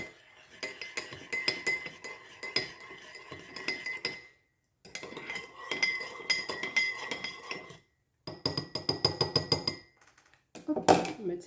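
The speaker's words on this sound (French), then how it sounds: "Et on mélange." A utensil stirs sweet-and-sour sauce for chicken in a dish, giving repeated clinks and scrapes against the bowl in bursts with short pauses, while a voice talks over it.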